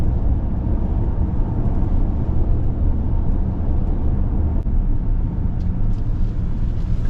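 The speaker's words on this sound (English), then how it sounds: "We got the Hurricane twin turbo inline 6 powering this vehicle now, and it feels really good to drive." A 2025 Ram 1500 Laramie 4x4 pickup with a Hurricane twin-turbo inline-six, heard from the cabin while driving, a steady loud low rumble of engine and road noise that stays even throughout with no talk.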